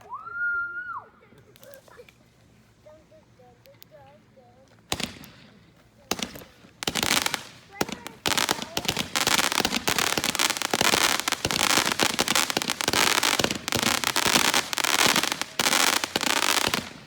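Fourth of July fireworks in 2020 going off in rapid, crackling volleys of sharp bangs and pops that build into dense, continuous bursts, with a brief whistle and some talk early on.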